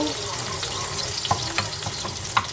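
Garlic sizzles and crackles softly in a frying pan for a rosé cream pasta, a steady faint hiss punctuated by a few sharp utensil taps and stirring clinks.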